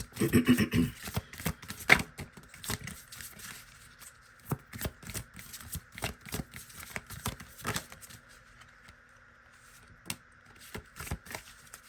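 Oracle cards being shuffled by hand: a rapid papery riffle at first, then an irregular run of soft flicks and slides from a close deck, fading toward quiet near the end, with no talk.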